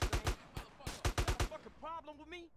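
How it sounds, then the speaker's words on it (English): A quick series of sharp, close gunshots from the video game GTA San Andreas, in irregular bursts, followed by someone speaking. "I hear gunshots, which imply that there's a balla nearby"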